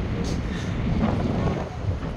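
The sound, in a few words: strong wind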